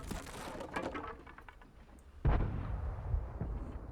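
In the World of Tanks game, the STA-2 tank gun fires a single heavy, booming shot midway that rolls off into a rumbling tail after quieter battle noise.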